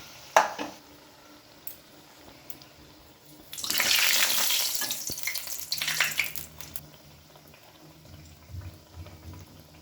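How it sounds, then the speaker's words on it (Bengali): Spiced besan batter coating banana and potato slices for beguni fritters, dropped into hot oil over a lowered gas flame: a loud, bubbling sizzle surges up midway, holds for a few seconds, then settles to softer crackling. "সবগুলো এরকম করে তেলে ছাড়বো"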